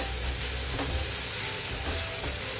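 Potato filling for aloo paratha frying with onions in a pan, a steady close sizzle with occasional scraping stirs throughout.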